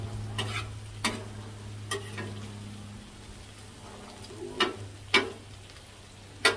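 Frozen hash browns cooking on a flattop griddle give a low, steady sizzle under a constant background hum, with a few sharp clicks and scrapes scattered through it.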